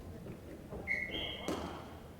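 A referee's whistle shrills once at a hockey game, short and fairly clear, with arena noise and a brief thud beneath it.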